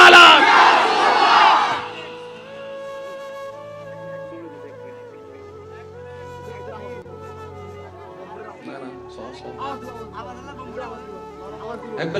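A large crowd at a religious sermon gathering shouts takbir slogans loudly in unison, a brief roaring burst at the start, then quieter talk and murmuring continue.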